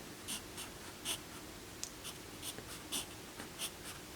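A pencil scratches across paper in loose, continuous strokes, with soft rhythmic swishes close to the ear in a quiet room.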